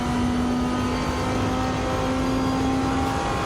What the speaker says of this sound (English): The audio of this car sounds incredible by comparison